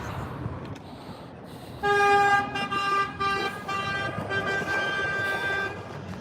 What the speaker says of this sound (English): He's honking at an imaginary cat.